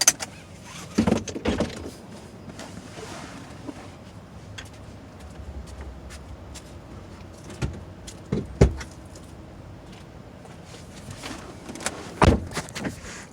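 Plugging an electric car in to charge, with scattered clicks and clunks of a car door and power windows, a few sharper knocks standing out over a quiet background, no speech.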